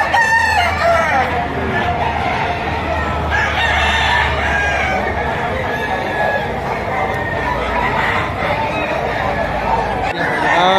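Roosters crow repeatedly at a bustling fowl market, with loud crows over a dense background of people talking and chattering.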